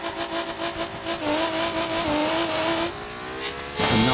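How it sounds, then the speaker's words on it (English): A dragster in BeamNG.drive accelerates hard on nitrous, its engine note rising steadily and loud for several seconds before a sharp surge near the end, with no talking. "Punch the gas and the NOS."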